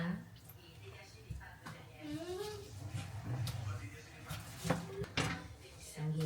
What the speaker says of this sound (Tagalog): Hiwain ko lang itong ng maliit.